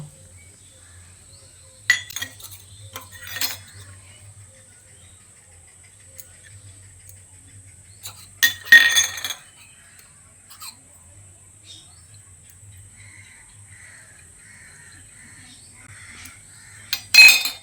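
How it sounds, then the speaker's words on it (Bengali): Four bowls being greased with oil by hand, giving a few scattered light clinks and knocks of the bowls with quiet stretches between them. "4টে বাটিতেই আমি তেলটাকে এইভাবে লাগিয়ে নেব।"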